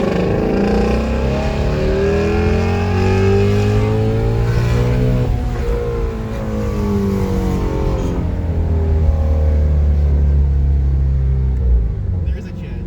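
Ford Mustang Shelby GT350 (2018) engine revving hard toward high RPM, a loud close roar climbing in pitch, dropping, then rising again in a second sustained pull.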